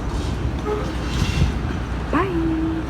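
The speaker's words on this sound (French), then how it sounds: "C'est ça qu'on a pris tout à l'heure. Et en fait c'est un métro tram tout mélangé genre." A San Francisco metro tram rumbles past on a busy street, a steady rolling noise that ends with a sharp rising tonal squeal settling into a sustained whine near the end.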